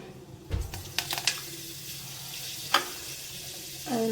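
Fenugreek seeds sizzle and crackle in hot sesame oil in a pan, with a few sharp pops and a spoon clinking against the pan.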